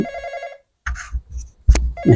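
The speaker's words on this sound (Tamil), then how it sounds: "சும்மா சும்மா ஃபோன் அடிக்க" A mobile phone rings in a Tamil comedy sketch about a debtor, a short trilling electronic ringtone at the start that stops abruptly, followed by a few dull thumps and rustling handling noises, with no voices.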